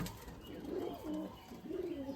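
Andhar and old-line Giribaz pigeons kept at a home loft make soft, rolling coos, two or three low phrases, faint and close, with no speech.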